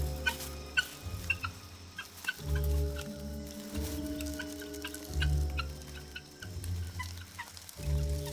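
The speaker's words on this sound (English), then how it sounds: "Teamwork has led to an escape for the guinea fowl." A flock of guinea fowl calls in the wild, loud overlapping cackling and chattering bursts repeating close by, with no talk over them.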